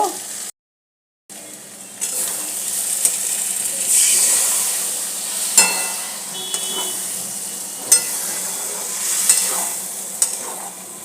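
A steady sizzle of ground spice paste for pointed gourd korma frying in a hot pan, with occasional scraping stirs and louder hissing bursts, after a brief silent gap at the start.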